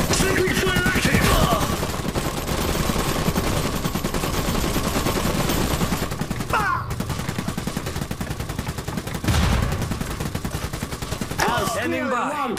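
Continuous machine gun fire in the Iron Harvest real-time strategy game during a stronghold siege, a rapid, steady rattle of shots lasting throughout, with occasional heavier impacts and brief clipped unit voice lines over the top.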